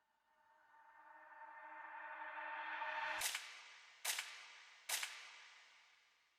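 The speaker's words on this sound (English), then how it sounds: "the impact is actually shots from a gun" A rising whoosh swells for a few seconds, then three sharp gunshot impacts hit in a row, evenly spaced and echoing, in an orchestral drill beat.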